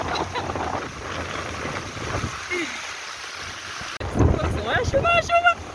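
Rain and gusting wind roar steadily during a motorbike ride in the rain while holding an umbrella, heavy buffeting noise close to the microphone, with someone speaking over it near the end.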